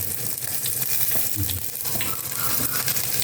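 Hot oil sizzles and crackles steadily up close, with small popping spatters throughout as seeds splutter in the pan.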